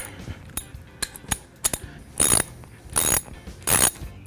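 A ratchet loosening head bolts on a 350 Vortec Chevy engine being torn down for a 383 stroker build: scattered metallic clicks and taps, then three rhythmic bursts of fast ratcheting, close and clear.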